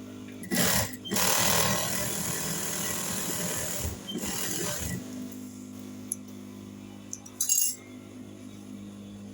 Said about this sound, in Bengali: এখন আমি দাগ বরাবর সেলাই করে নিচ্ছি।